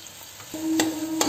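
A spoon scrapes through boiled potatoes and masala in a cooking pan, soft stirring under a faint sizzle, with a few sharp metallic clinks against the pan.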